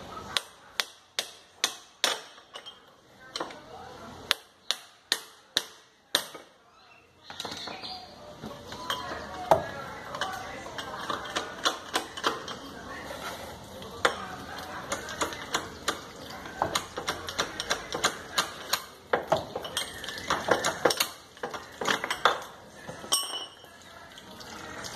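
A hammer strikes a pickle fork to separate a ball joint on a Ford Focus, producing a run of sharp metallic clanks at a steady pace, then denser clattering and scraping with a voice talking at times.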